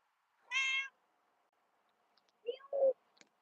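A cat meows twice indoors: one clear, bright meow near the start, then a couple of shorter chirping mews close together toward the end, with near silence between.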